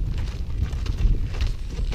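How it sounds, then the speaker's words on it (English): Low, gusty rumble of wind buffeting the microphone on open prairie, steady and fairly faint, with no voices. "It's windy. A little windy."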